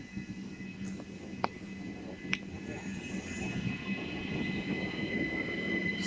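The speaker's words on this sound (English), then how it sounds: "Departing now is going to be the 1513 SouthEastern service to Hastings from London Charing Cross." Southeastern train departing St Leonards Warrior Square station on a service to Hastings, a steady low rumble building gradually with a couple of sharp metallic clicks, heard at moderate distance on the platform.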